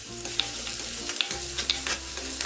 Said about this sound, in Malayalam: ഇതിലേക്കിനി അരിഞ്ഞു വെച്ചിരിക്കുന്ന ഇഞ്ചിയും വെളുത്തുള്ളിയും കൂടി ഇട്ട് വഴറ്റി കൊടുക്കാം